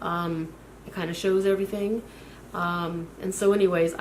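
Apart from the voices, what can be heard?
None of the usual background noises is heard.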